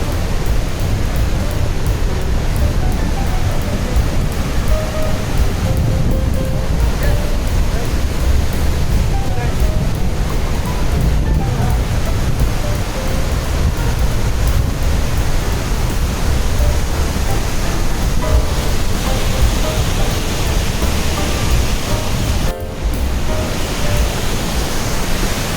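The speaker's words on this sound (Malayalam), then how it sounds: "നമ്മൾ താഴോട്ട് ഇറങ്ങി ഈ സൈഡ് വഴിയും വെള്ളം ഇങ്ങനെ ഒഴുകി ഇറങ്ങുന്നുണ്ട്." The Rhine Falls roar as a dense, continuous wall of rushing water, loud and close with no pauses, while a voice talks faintly beneath it.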